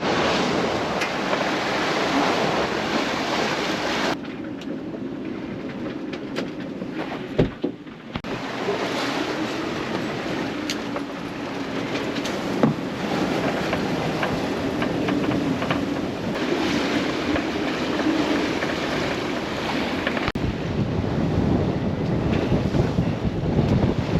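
Strong wind and rough waves surround a solo sailboat making about 6 knots at sea, with loud continuous rushing, buffeting wind noise on the microphone, and surging water washing past the hull, close and unbroken throughout.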